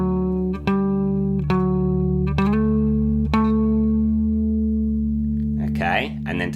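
Electric guitar with effects plays a classic riff: sustained, distorted picked notes struck about four times, ringing on, with a scratchy noisy flourish near the end.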